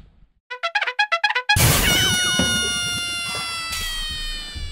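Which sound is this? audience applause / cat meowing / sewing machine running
cat meowing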